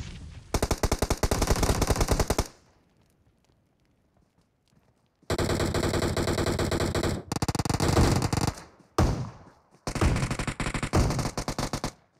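Automatic gunfire in a battle royale video game crackles in long, loud rapid bursts, cutting off into quiet gaps before further sustained volleys, with no talk over it.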